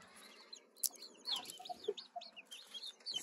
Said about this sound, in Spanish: Oigo que llora el pollito, como un poco débil